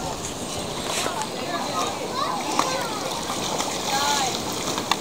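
A hooked fish thrashes and splashes in the water below a fishing pier, producing broken, irregular splashes under a steady wash of water and wind, with excited voices calling out nearby.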